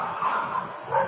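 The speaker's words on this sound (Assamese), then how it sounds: "কুকুৰে ভুকিছে, সেইটো কাৰণে চাইছোঁ" A dog barks in Guwahati, one brief bark that sounds fairly near and a little muffled, with nothing else in the background.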